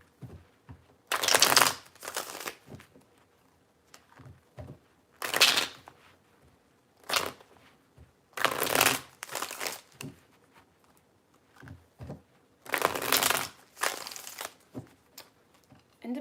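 Tarot cards shuffled by hand in several separate bursts, close and crisp riffling with short pauses between rounds.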